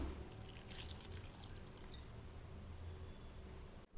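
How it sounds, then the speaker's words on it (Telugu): Water poured into a cucumber, onion and coriander curd chutney, a steady close trickle and splash lasting about four seconds with no talk. "తగినంత వాటర్ అందులోకి వేస్తాం."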